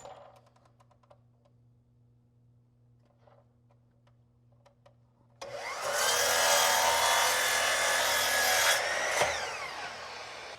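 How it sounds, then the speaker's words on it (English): A miter saw making a mitered cut on a wooden jig: after a quiet start with a few light taps, the blade roars up loud and close for about three seconds, then cuts off and winds down. "go over to the miter saw and make a mitered cut on this jig"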